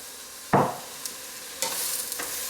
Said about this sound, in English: and just stir-fry it around.